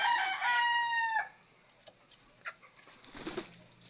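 A fighting rooster gives one strong crow up close and trails off, followed by a few faint scattered knocks and rustles in a quiet yard.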